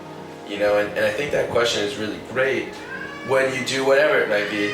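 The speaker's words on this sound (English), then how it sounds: "So that's a cat in the background." A pet cat meows in a house that also holds other animals, the calls sounding under continuous close conversation and never heard alone.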